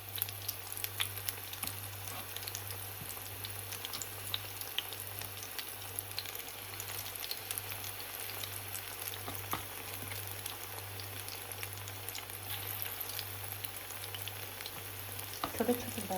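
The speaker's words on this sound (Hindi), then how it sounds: "पकौड़े, ये पकौड़े बना रही हूँ।" Pakoras frying in hot oil make a continuous fine sizzle with scattered pops, over a steady low mains-like hum throughout.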